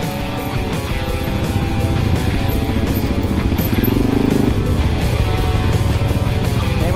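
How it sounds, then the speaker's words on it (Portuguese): A motorcycle engine roars loud and close on a mountain bike trail, its rough revving sustained and swelling as it passes, with riders' voices faintly mixed in. "Moto!"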